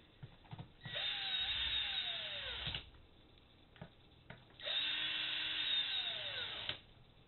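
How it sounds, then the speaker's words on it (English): A power drill whirs in two bursts, each winding down in pitch as it drives a screw, with small clicks and taps between. "I slow down my action on the drill so it can just seat it just properly."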